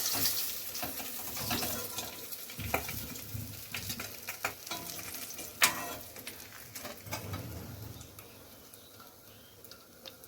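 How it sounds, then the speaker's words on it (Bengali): Dry red chillies, bay leaf and black cumin sizzle as they hit hot oil for a tempering in a home kitchen, with a crackling fry, a few sharp pops and stirring clatter that fade toward the end. "এই যে ফোড়নে দিয়ে দেবো শুকনো লঙ্কা, তেজপাতা, আর দিয়ে দেবো কালো জিরে।"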